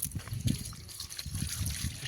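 Water trickles and splashes softly in short irregular bursts, close and fairly quiet, like water being poured over someone during a wash.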